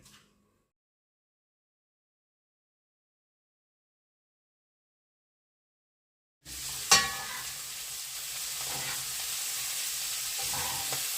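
After several seconds of near silence, a steady frying sizzle of cabbage in a pan starts up close and continues, with a brief clatter at its start.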